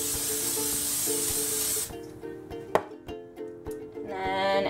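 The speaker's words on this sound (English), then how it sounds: "I just usually use the spray kind." A cooking oil spray can hisses steadily for about two seconds, then stops, followed by faint clicks and a short second burst of spray near the end.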